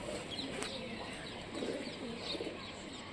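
Several pigeons of an old Rajshahi flying (baji) breed coo softly in a steady, low murmur, with faint chirps over a constant background hiss.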